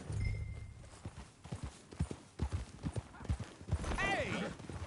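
Hooves clip-clop in a steady rhythm close by, with a horse whinnying near the end and a person's voice mixed in.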